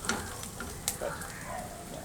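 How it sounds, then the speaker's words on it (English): Crushed garlic sautéing with softened onions in a pan for a balti mushroom curry, giving a quiet, continuous sizzle with a few soft clinks and stirring scrapes. "Saute for 30 seconds."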